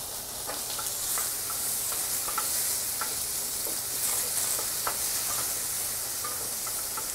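Mushrooms browning in butter in a pan for truffle pasta give a steady bright sizzle with faint stirring clicks and pops throughout, close and continuous with no talking.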